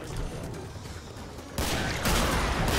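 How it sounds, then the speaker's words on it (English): A grenade goes off in the video game Killing Floor, a sudden loud blast that jumps in over steady gunfire and battle noise and holds as a dense roar to the end. "I'm chucking a grenade up there"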